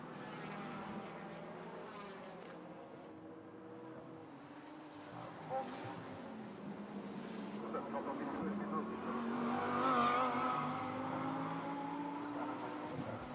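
An Audi R8 with a sonorous V10, racing in GT competition, leaves the pit lane. Its engine rises and falls in pitch, swelling louder near the end of the clip, with faint broadcast commentary underneath.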